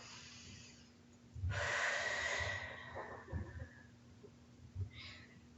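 A slow, deep breath out during a gentle morning mobility session: one long, close, breathy exhale, followed by a softer puff of air a few seconds later.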